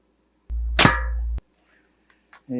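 A Daisy 853 air rifle fires a .177 pellet at a can. There is one sharp, close shot, then near silence broken by a few faint clicks.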